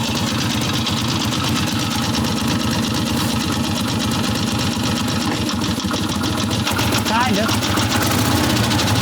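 An old barn-find Harley motorcycle engine that had not run in 50 years runs steadily nearby with a rapid mechanical clatter during a clutch test, while someone talks over it.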